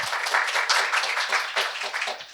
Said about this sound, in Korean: 박수를 부탁드리겠습니다